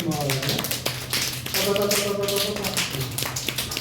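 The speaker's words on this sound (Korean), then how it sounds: "손등박수" Backs of the hands clap together in quick, light taps, a rapid run of sharp little hits sounding under a person speaking.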